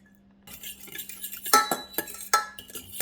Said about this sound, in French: Avant de partir au boulot, je vais préparer la pâte à pizza.